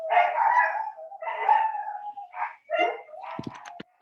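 Several dogs howl and yip together in a drawn-out chorus, their long wavering cries rising and breaking off, ending with a few sharp barks; close and fairly loud with no talking.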